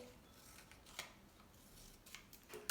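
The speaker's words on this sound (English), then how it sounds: "can you take your scissors and cut some lines in it?" Scissors cut lines into a paper tulip, a few faint, crisp snips spaced irregularly close by, with a louder cut at the end and no talk.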